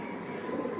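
A full jabra khaki pigeon gives a single brief, low coo, close and fairly quiet against a steady background hum.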